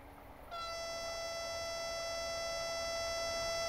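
Train Simulator 2018 locomotive horn sounding its secondary tone on a North Wales coastal run, a loud sustained multi-note blare that starts abruptly and holds steady to the end, alone with no talk.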